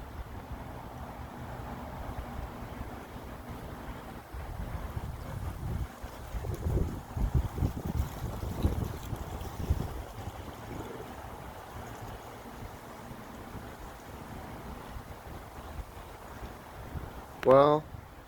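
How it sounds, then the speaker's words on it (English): Wind blowing outdoors in Phoenix ahead of a rain storm, a steady low rush with gusts swelling and fading, faint and continuous, ending with a brief close rustle. "The wind coming through again."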